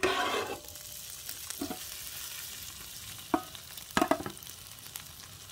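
Beans sizzle quietly and steadily in a frying pan as they are turned to brown the other side, with a few sharp clinks and scrapes of a utensil breaking the low hiss.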